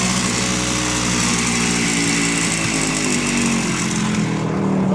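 A 1970 Suzuki T350 motorcycle engine runs loud and close with a raspy, buzzing two-stroke drone, steady throughout and wavering slightly in pitch near the end, with no talk.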